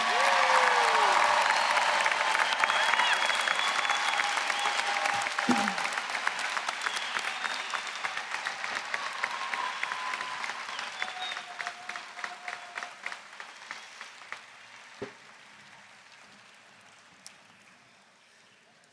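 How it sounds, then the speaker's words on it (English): Applause for graduates at a high school graduation ceremony in a large hall, a broad crowd of clapping that starts loud and gradually thins into scattered individual claps before fading out, with faint murmuring voices underneath. "Can we get a quick round of applause for the graduates before we confirm them?"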